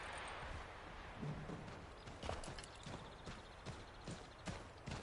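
Horse hooves clip-clop steadily on horseback in the cold setting of the Assassin's Creed 3 Remastered video game, a brisk, even walking rhythm of close, distinct hoofbeats that runs through the whole stretch.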